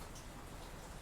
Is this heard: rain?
yes